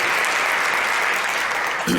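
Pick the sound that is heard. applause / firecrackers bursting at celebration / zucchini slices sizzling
applause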